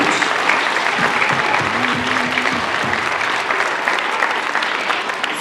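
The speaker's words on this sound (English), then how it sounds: "Let's give the family one more round of applause" Loud, sustained applause fills a room at an elementary school renaming ceremony in Salt Lake City, with a brief voice or tone rising faintly under the clapping partway through.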